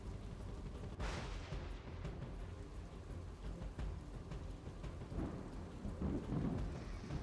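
Heavy rain pours in a steady hiss during a flash flood in Hansot, Gujarat, with a deep rumble of thunder partway through, rather faint.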